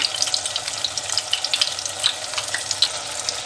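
Spices for bhindi masala fry in a pan, a dense steady sizzle with quick crackling pops, loud and close, with no voices.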